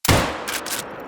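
A single loud rifle shot in the hunting game theHunter: Call of the Wild, a sharp close crack followed by a long rolling echo that fades out.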